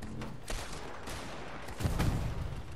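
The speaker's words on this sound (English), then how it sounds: "Other than reload times, the flintlock's a pretty good close range weapon." Flintlock pistol gunshots in Fortnite, a few sharp cracks with a heavier burst near the end, fairly faint and without talk.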